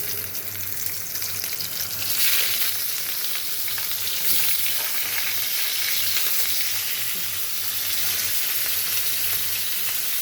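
Green banana curry with chilies fries in hot oil, giving a constant close, dense sizzle that runs unbroken for about ten seconds with soft stirring and no talk.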